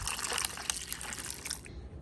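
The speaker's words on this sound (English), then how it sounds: "Pour in my coffee." Coffee pours over ice in a cup, a close splashing trickle with small ice crackles that tapers off near the end.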